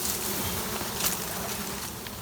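Honey bee swarm humming at a hive entrance, a dense, continuous buzz of many bees close by, steady in level with brief louder flickers as individuals pass near, no voices.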